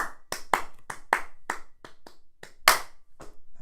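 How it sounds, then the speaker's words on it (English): A small group claps together in a studio in a series of sharp, distinct bursts, about a dozen crisp hand claps in an uneven rhythm, close and fairly loud with one louder smack near the end. "Do you want to do another clap like yeah?"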